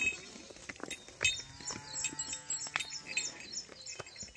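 Cows and buffaloes are led out to graze on a farm, with a low lowing call and shuffling movement, while birds chirp faintly in the background.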